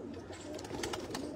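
A pigeon coos softly a few times, faint and close, over a low steady background hum.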